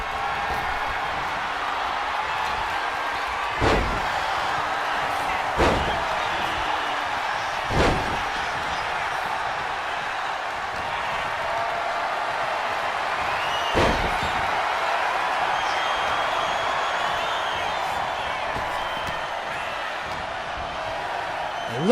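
Wrestlers being slammed onto the mat in a WWE 2K25 Royal Rumble match, four sharp heavy thuds spaced a few seconds apart over a constant crowd roar.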